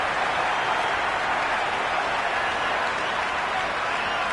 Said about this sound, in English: That's a hat-trick, and the crowd are going wild.